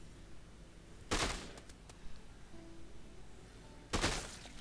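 A gun in Dead Rising 2 fires in bursts of two, with two sharp, fairly faint bursts of shots about three seconds apart over a quiet background.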